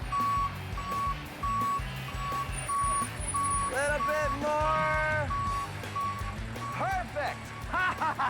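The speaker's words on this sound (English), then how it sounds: "A cement truck is the perfect thing to mix" A cement truck backs up with steady, evenly spaced reversing beeps under loud idling diesel rumble, while a man calls out guidance and other voices chatter over the engine noise.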